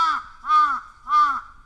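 A crow at a watering hole, captured on a trail camera, gives three loud, harsh caws at an even pace, close by and with no other sound.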